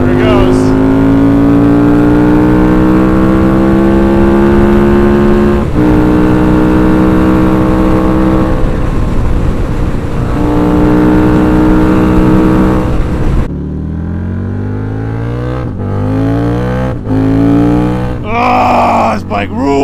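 A motorbike engine revs loudly and close by, with rising and falling harmonic pitch that climbs through a long pull, then a sharper change near the end as the engine revs in short bursts.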